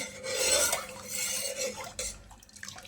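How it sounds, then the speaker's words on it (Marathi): A spoon stirs buffalo milk in a pot, making soft scraping and swirling sounds against the metal, quiet and close with no talk. "तर हे दूध आहे ना असं थोडंसं हलवून घ्यायचं म्हणजे काय होतं बेसला चिटकत"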